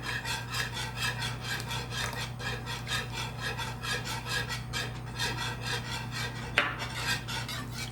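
A utensil scrapes and rubs around a pot as cream is stirred into a thickening sauce, making a rhythmic, rasping back-and-forth over a low steady hum, with one sharper knock.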